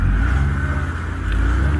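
A car engine runs steadily under throttle as the driver gives it gas while the vehicle is being pulled free from where it is stuck; a continuous, fairly loud, close drone with no voices.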